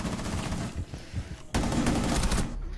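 Video game gunfire crackles in rapid bursts that sound like a loud automatic volley, with a sharp, dense stretch near the end.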